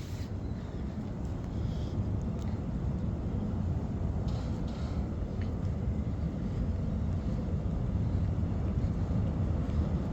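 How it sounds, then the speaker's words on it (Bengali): A train passes nearby outdoors on a cold, windy day, heard as a steady, loud broadband rumble that holds evenly for about ten seconds with no talking. "ট্রেন যাচ্ছে।"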